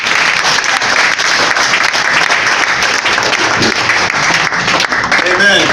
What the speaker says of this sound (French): Il faut applaudir à Dieu